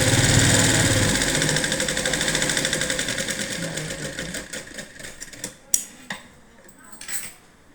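A sewing machine stitches a blouse, its rapid mechanical rattle running steadily for about five seconds before fading out, followed by a few faint handling clicks.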